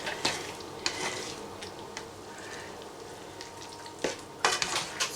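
Drained potatoes frying in a pan with sausages, a constant close sizzle with occasional scraping stirs and utensil knocks against the pan.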